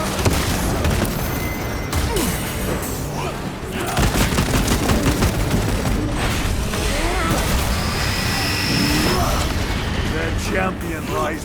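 Contact grenade explosion amid heavy gunfire in Warhammer 40000: Space Marine 2, loud close booms and dense rapid bursts of shots with clanking mechanisms, sustained combat throughout.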